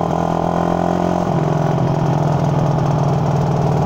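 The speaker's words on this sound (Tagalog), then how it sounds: "Susubukan natin tong stock pipe ni Boss Reynolds, kung kakasa kay Sir Carlay" A Raider 150 motorcycle engine with its stock exhaust pipe runs loud and close, a steady throbbing idle that shifts to a slightly higher, rougher note about a second in.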